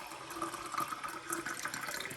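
Water being poured or run from a tap into a glass for drinking during house cleaning, a steady close trickling stream with no talk.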